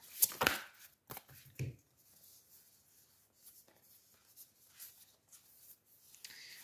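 Tarot cards are shuffled and flipped over in a quiet room: a few sharp riffling bursts at the start, then soft, sparse taps and slides as cards are turned, with no talking.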